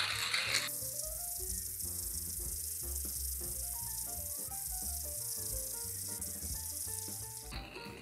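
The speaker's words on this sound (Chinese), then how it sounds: "OK， 那我们就开始研磨" A hand coffee grinder set to its finest setting crushes beans in a steady, continuous gritty rattle and crunch with a rhythmic texture from the turning crank, close and dry, with no talking over it.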